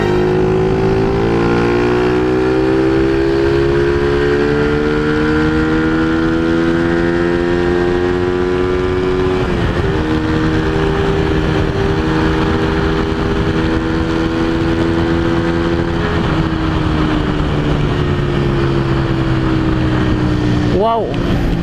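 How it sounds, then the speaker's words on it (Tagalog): A motorcycle engine after a carburetor repair, running close and loud for over twenty seconds, its pitch rising and falling through several revs with a sharper rev near the end. "try natin i-virit."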